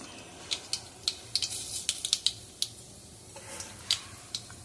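Mustard seeds popping in hot oil in a pan while tempering an okra curry: scattered sharp crackles and quick pops, some in small bursts, over a faint steady hiss.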